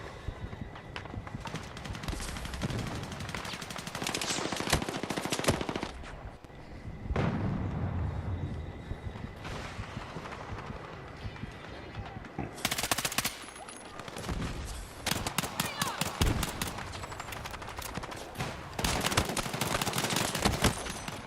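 Gunfire in the Battlefield 6 beta, with loud, intermittent bursts of rapid shots separated by quieter stretches of battlefield noise and no clear talk.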